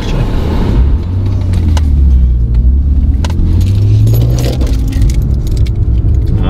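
A used six-cylinder car cruising on the road, heard from inside as a steady low engine and road rumble with a few faint rattles and clicks.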